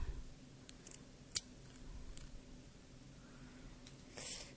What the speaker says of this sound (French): Là, je vais les couper en deux.